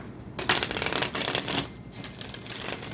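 Tarot cards riffle and shuffle close by in bursts of dense papery flutter, pausing briefly before a softer continued shuffle, with no talking.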